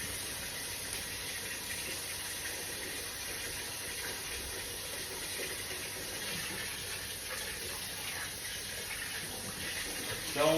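Steady tap water runs continuously into a sink or bowl while rice is rinsed by hand, a soft even rush with no talk over it.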